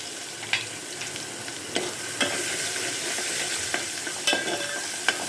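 Hing, green chillies, onion and garlic frying in a pan for a tempered bajra rotla, a steady close sizzle with occasional sharp clicks from stirring, no talking.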